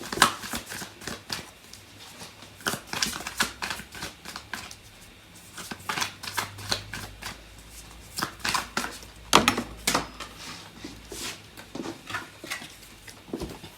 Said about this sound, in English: I'm going to pull out some more cards from the other deck